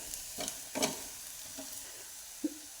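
Onion with turmeric sautés in a pan while a spoon stirs it, giving a quiet, soft sizzle broken by a few scraping strokes and light knocks against the pan.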